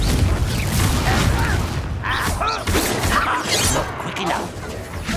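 A Confringo blasting spell bursts with booming, crashing explosions amid rapid duelling magic in the Hogwarts Legacy video game, loud and dense, with whooshes and impacts piling up over continuous game sound.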